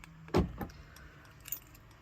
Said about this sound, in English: we'll lock the car up as we did before